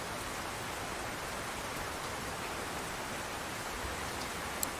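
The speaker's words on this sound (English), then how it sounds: "How long have we got rain for?" Steady rain in the video game Rune Factory 4, a soft even hiss of falling drops that stays constant throughout with no voices.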